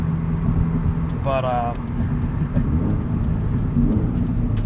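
A Subaru BRZ fitted with an FT86 catted UEL header and OFT tune hums along while driving: a steady, low engine and road drone runs throughout beneath a voice speaking over it.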